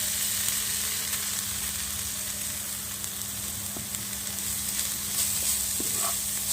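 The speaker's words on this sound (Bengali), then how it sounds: "এখন এতে গ্রেট করে রাখা আলুগুলি আমি দিয়ে দেবো" Grated potatoes fry with spices in a pan for a semolina and vegetable snack, giving a steady, close sizzle throughout with a couple of faint stirring clicks.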